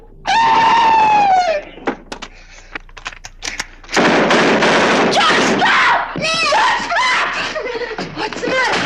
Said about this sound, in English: Someone was screaming.